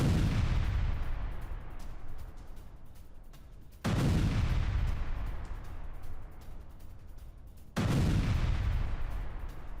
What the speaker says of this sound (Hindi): सेंट्रल गाजा में आईडीएफ की जबरदस्त बमबारी